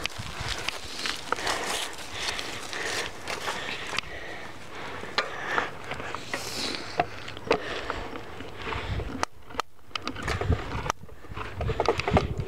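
A ten-year-old bicycle rattles and clatters steadily while being ridden, a dense, close, continuous jangle with irregular knocks and bumps and no voices.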